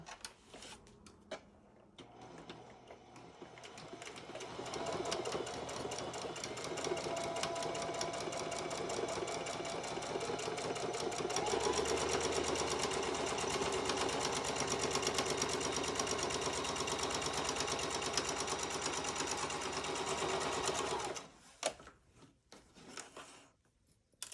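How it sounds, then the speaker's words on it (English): A sewing machine runs steadily for about twenty seconds, stitching the sides of a tea towel project bag with a fast, even mechanical whir that slows near the end before stopping, with faint handling noises before and after. "now I'm going to come in and just stitch both of those sides here together"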